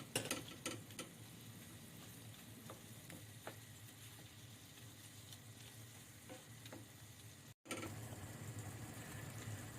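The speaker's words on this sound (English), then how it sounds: "Stir it well so that all shrimps will absorb that flavor of the" Shrimp curry in sauce bubbles quietly in a pan while a utensil stirs it, with soft, steady sizzling and a few scraping strokes; a brief dropout near the end, then the simmering resumes.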